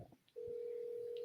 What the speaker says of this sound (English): Hold on, I'm getting a phone call.